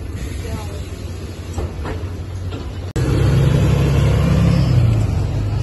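Rumbling engine and road noise inside a public bus, a steady low drone that grows louder and heavier partway through as the vehicle picks up speed, with a voice speaking over it.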